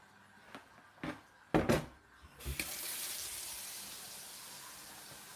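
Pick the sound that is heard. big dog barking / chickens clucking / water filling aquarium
water filling aquarium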